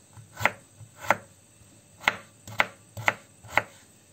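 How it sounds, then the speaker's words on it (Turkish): Knife chopping potatoes into small pieces on a cutting board, six or seven sharp, distinct strikes at an uneven pace, close by with no talking. "Şimdi patateslerimi de doğruyorum."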